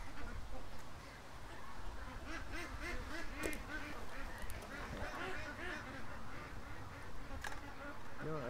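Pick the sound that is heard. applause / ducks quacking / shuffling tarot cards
ducks quacking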